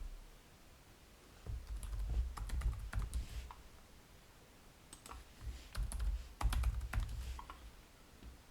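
Fingers tap out a password on a computer keyboard in two quiet bursts of quick, uneven keystrokes, close to the listener with a short pause between them.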